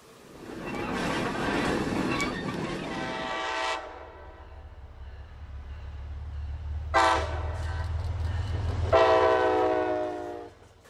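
A freight train rumbles past while its horn sounds a long blast, then two more loud blasts, over a steady low rolling of the wagons.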